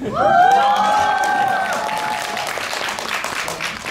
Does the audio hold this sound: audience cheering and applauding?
yes